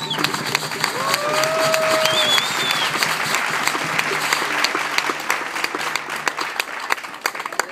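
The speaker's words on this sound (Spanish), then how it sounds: "Un aplauso, por favor." An audience applauds steadily at an environmental award ceremony, a dense wash of clapping from a crowd in a hall, with a few whistles or cheers rising briefly near the start.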